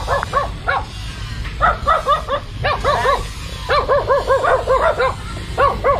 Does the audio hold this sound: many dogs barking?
yes